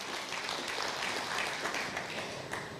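Church congregation gives a lively round of applause to God during a sermon, a full, sustained wash of clapping from many hands at a moderate distance, steady throughout.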